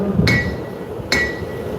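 A forging hammer strikes hot steel twice at a live blacksmithing demonstration at a trade show, each close, ringing clang spaced just under a second apart over a low background murmur.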